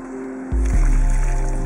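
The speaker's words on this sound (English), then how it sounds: "Now we're going to fill with water." Water pours into a Groasis waterbox for a tree planting, starting abruptly as a loud, close, continuous gush that swells and then holds steady.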